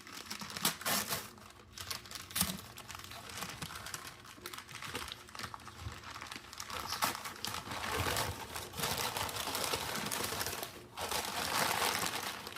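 Wrapped gift being unwrapped, paper crinkling and rustling continuously at close range, with tearing and crumpling bursts that grow denser and louder toward the end.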